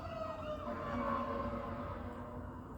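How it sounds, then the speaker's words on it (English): A siren wails in the distance, its tone slowly rising and falling over a steady background rumble. "Sorry if you can hear the sirens."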